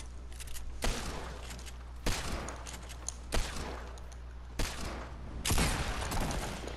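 Five sharp, separate gunshots in the video game Fortnite, spaced roughly a second apart, each followed by a short decaying tail over a steady low hum.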